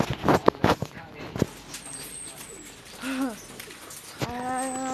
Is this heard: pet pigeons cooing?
yes